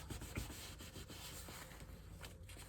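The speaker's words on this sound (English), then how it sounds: "bring back in my paper towel and just wipe off anything that was left on the embossing" A paper towel is rubbed back and forth over embossed paper in a craft setting, giving soft, very quiet scuffing strokes in a loose repeating rhythm with no voices.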